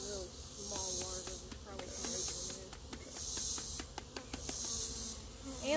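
Honeybees of a Carolinian type buzz around an open hive with dark comb, a close, continuous droning hum with individual bees whining past, under faint talk.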